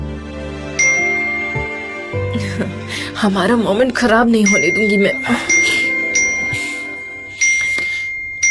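A phone message notification chimes a few times as bright, short dings, rising over and between steady conversational speech from a woman indoors.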